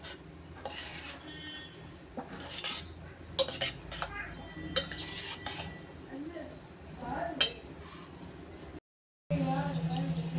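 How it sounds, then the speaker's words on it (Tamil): A utensil stirs egg sandwich filling in a bowl, making repeated scraping and clinking strokes against the dish in irregular bursts, with a brief gap near the end. "இதை எல்லாமே நல்லா கிளறி விட்டுக்குருவோம்."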